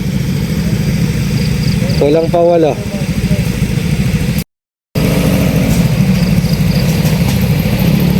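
Several motorcycles idle together at a group ride gathering, a steady mid-pitched engine rumble running throughout with people talking over it.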